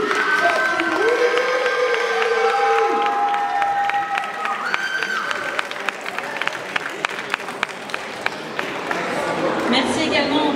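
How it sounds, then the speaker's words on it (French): Audience at an anime and manga convention's general contest applauding and cheering, a dense continuous wash of clapping and crowd noise with scattered whoops and music running underneath. "Donc, applaudissez-vous aussi. Faites du bruit."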